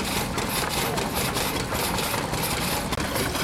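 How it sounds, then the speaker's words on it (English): Tiny petrol engine driving a saw through wood at a steam fair, a steady buzzing, rattling drone close by, continuous and fairly loud throughout with no pauses. "A tiny little petrol engine there, sawing wood"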